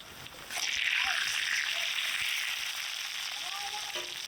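Steady hiss and crackle of paneer frying in hot oil, continuous and fairly close, with no talking.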